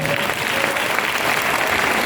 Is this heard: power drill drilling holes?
no